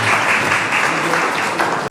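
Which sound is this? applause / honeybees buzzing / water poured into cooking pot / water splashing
applause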